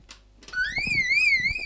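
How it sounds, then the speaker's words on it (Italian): A warbling electronic alarm tone rises and falls steadily, loud and close, following a couple of brief clicks. "C'è un simpatico allarme"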